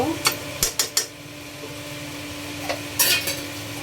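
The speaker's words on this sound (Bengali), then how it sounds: "এখন আমি নাড়াচাড়া দিয়ে নিব, আবার ঢেকে দিব।" Food frying in a pan and being stirred, a low steady sizzle under several quick clinks and scrapes of a utensil against the pan, close by and fairly loud.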